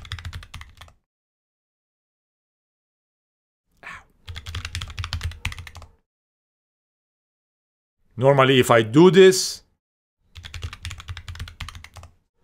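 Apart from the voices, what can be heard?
typing on a computer keyboard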